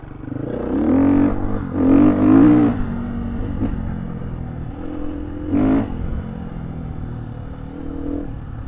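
A 2021 Gas Gas EC 350F dirt bike engine revs up in a few loud bursts near by, with a steady idle and rumble in between, ridden on bush trails.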